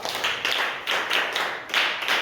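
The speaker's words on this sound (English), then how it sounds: "Please clap for her." A classroom of students claps for a classmate in a few rhythmic bursts, close and fairly loud, each burst of hand claps separated by brief pauses.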